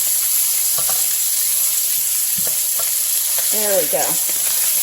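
Chicken thighs fry in regular vegetable oil with a steady, loud, even sizzle throughout, joined by a few clinks of a utensil and a short spoken remark near the end.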